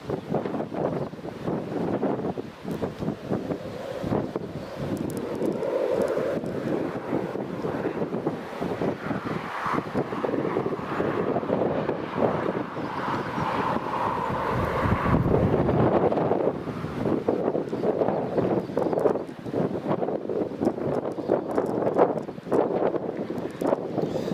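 Strong wind buffets the microphone at Newcastle Airport, producing continuous rough, gusting roar that rises and falls over nearly half a minute, with no voices.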